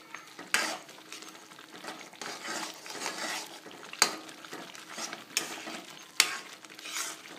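Roasted semolina being stirred into heating water in a pot for pongal, soft scraping and swishing of a spoon with several sharp clinks against the vessel, quiet and close.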